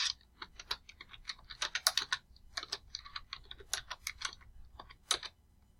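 A computer keyboard tapped nearby in an irregular run of distinct, separate keystrokes, some louder than others, with a faint low background hum.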